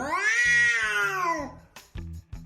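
A hungry cat lets out one long, loud, drawn-out meow close up, followed by a few shorter sounds near the end.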